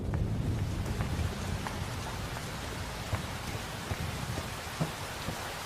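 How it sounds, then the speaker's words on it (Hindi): Steady rain with thunder in the film Border 2 falls on surfaces with a thick, continuous hiss while low thunder rumbles underneath, a few faint separate cracks of drops standing out, with no talking. "बारिश आने वाली है"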